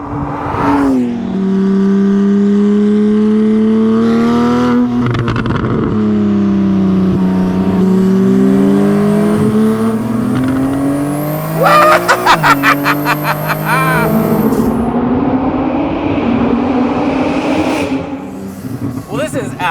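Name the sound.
Porsche Cayman with 911 Turbo S engine driving on track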